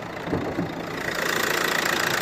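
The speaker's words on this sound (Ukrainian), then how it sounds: "Двигун працює рівненько" A 2014 Renault Megane with a 1.5 dCi diesel engine idles close by, a steady low rumble with a faint rhythmic knock.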